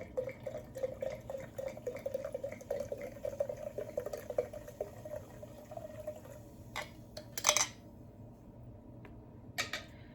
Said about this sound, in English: I'll go ahead and pour us up some wine.